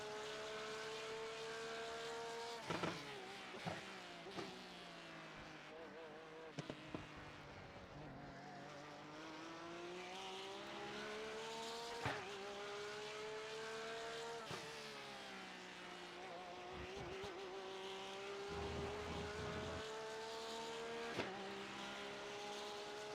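A Porsche GT3R race car engine at Zandvoort drones loud and steady from inside the cockpit, its pitch rising and falling through throttle changes, with short drops and clunks from gearshifts and braking along the lap.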